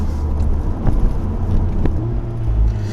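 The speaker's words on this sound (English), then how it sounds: "one thing that's really nice about this exhaust are the DSG farts" A Volkswagen Golf R engine roars steadily with two sharp, short exhaust pops on 7-speed DSG gearshifts about a second apart, loud and close.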